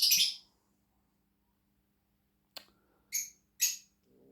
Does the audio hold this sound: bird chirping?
yes